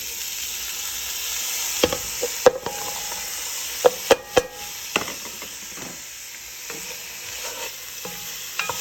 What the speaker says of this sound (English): I'm gonna brown them and then take them right back out and then start my roux.